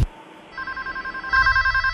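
A telephone rings in repeating electronic trills that start soft and then grow louder, with no voices over them.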